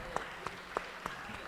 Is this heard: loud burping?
no